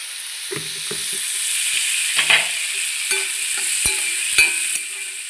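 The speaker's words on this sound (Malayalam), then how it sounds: "ഇതിന് വഴറ്റി എടുക്കാം" Onion and green chili being sautéed with dried shrimp for a shrimp roast give a steady sizzle close by, punctuated by repeated knocks and scrapes of a spoon stirring in the pan.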